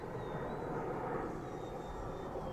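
An E-Flite V1200 1.2 m RC plane flies at half throttle, giving a steady, even motor drone with a faint high whine that holds at a constant level throughout, with no voices.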